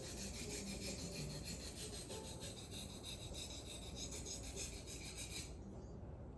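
A kitchen knife is stroked against a sharpener, giving a steady scraping rasp that continues for several seconds and then stops abruptly near the end, with no voices.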